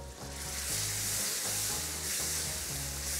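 Chopped tomatoes stewing in a pan for a rougail of chevaquines: a steady, loud sizzle and bubbling hiss that fills the whole moment, with low rhythmic stirring or thumping underneath.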